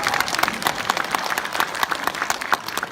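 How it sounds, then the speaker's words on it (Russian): Audience at a film premiere of a Fantastic Beasts movie in Yakutsk breaking into lively applause, dense rhythmic clapping from many hands filling the hall, loud and close throughout with no speech. "И ваши бурные аплодисменты!"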